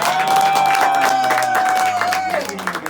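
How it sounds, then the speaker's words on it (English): Audience applause after a close-up magic trick, a dense wash of clapping and crowd noise with a steady ringing tone, while a voice talks over it. "you get all this applause, Lori"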